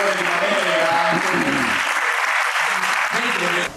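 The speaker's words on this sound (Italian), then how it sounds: "Un applauso a chi vuole" An audience at the Talentis Cortina start-up pitch event breaks into steady, loud applause that fills the room and dies away at the very end.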